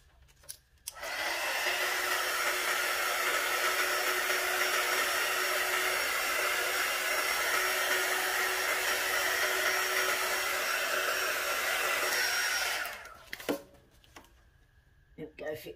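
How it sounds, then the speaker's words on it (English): A handheld heat gun blows steadily for about twelve seconds while working on resin shaker moulds, a loud, even whooshing roar that starts and stops abruptly with faint handling noises around it. "I wonder if I hit it with the heat gun."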